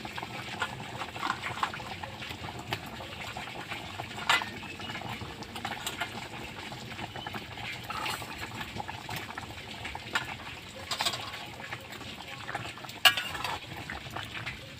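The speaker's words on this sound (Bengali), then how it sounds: "আমি ভালো করে তরকারিটাকে ফুটিয়ে নেব" Fish curry with potatoes and lentil badi bubbling steadily in a pot, a continuous close burble of simmering liquid with small pops throughout.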